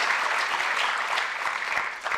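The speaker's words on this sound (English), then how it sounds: "Let's give him a big round of applause." A short burst of steady applause from the audience at a college elevator pitch competition, continuous clapping with no speech.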